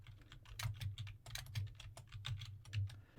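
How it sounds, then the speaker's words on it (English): Typing a terminal command on a computer keyboard under Linux Lite. A steady run of close, crisp key clicks with no talk. "Now in the terminal, you want to type sudo apt update."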